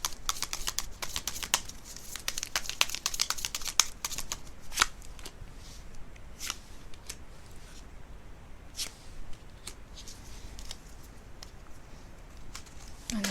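Tarot cards shuffled by hand during a card reading, a dense run of quick papery riffles and flutters, busiest in the first few seconds and then thinning to scattered soft slaps and snaps, close and fairly quiet with no talking.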